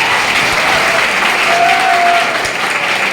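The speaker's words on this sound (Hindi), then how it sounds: "सही बोल रहा हूं तो ताली बजाना" Audience at a Chhattisgarh election rally in Dantewada claps steadily and loudly throughout, a dense continuous wash of applause with a faint crowd murmur underneath.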